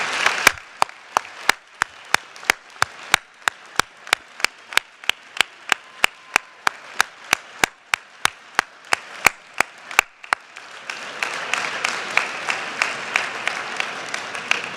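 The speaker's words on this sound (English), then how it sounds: "I want you to give them a round of applause for all the love and support that they have shown you" Audience at the Penn Dental Medicine 2017 commencement in an auditorium: a run of sharp, evenly spaced claps for about ten seconds, then a broad, steady wash of crowd applause filling the hall to the end.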